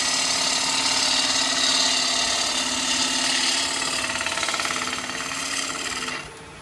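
A wood lathe running at just over 1,000 rpm turns a natural edge bowl with a loud, steady, gritty whir as a tool cuts, then the cutting noise drops away near the end, leaving a quieter hum.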